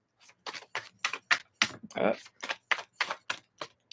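Tarot cards are reshuffled by hand in a run of crisp, rapid riffling snaps and flicks, about a dozen close bursts in an uneven rhythm, with a brief spoken murmur in the middle.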